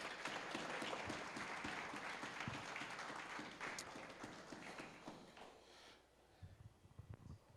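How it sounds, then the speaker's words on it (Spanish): A church congregation claps for the Lord during a Spanish-language service, with loud, dense applause for about six seconds before it thins out and fades to scattered claps. "Dele un aplauso al Señor"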